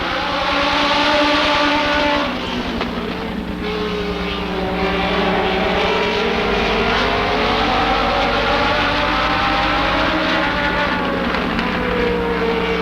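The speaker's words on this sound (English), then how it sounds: "Green flag, we're racing." Race cars roaring around Rockford Speedway in a June 2000 race, with a loud, continuous engine drone and rising and falling pitch sweeps as the pack passes.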